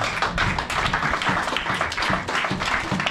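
A church congregation claps together in steady, dense applause throughout, close and fairly loud, with no clear voices over it.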